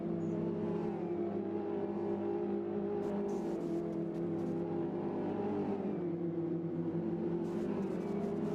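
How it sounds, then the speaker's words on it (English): Mini racing cars lapping Brands Hatch Indy in a sim racing game, a continuous layered engine drone that rises and dips slightly as the cars run, steady and moderately quiet throughout. "as Ryan Dignan comes in the 84 car, the RSR racing machine coming through."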